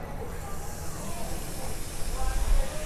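Bomb soda fizzing after salt is added: a steady, close hiss of bubbling carbonation that swells slightly toward the end and continues without a break.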